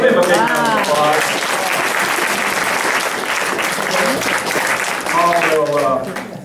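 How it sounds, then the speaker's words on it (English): Sustained audience applause at a church gathering, dense and steady at close range throughout, with a voice speaking briefly over it at the start and again near the end. "Give him a big round of applause."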